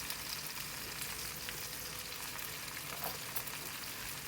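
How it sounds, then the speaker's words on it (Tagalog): Meat frying in a pan makes a soft, even sizzle that runs unbroken throughout, quiet and close with only slight crackling variation and no voices. "Hayaan lang natin na maprito ng konti yung ating karne"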